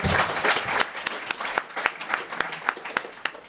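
Applause from an audience at a programming conference talk, a brief burst of clapping that thins to scattered individual claps.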